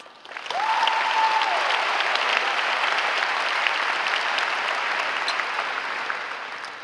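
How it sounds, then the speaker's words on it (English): A high school graduation crowd breaks into sustained applause, a broad steady roar of clapping from a large audience that holds evenly and then fades slightly, with a faint whistle near the start. "Let's all give ourselves a round of applause."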